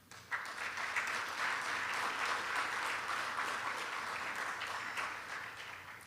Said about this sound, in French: Et je vous demande de bien vouloir les applaudir.